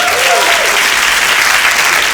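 A comedy club audience at a stand-up competition breaks into loud, close applause, with a voice briefly audible over the clapping at the start.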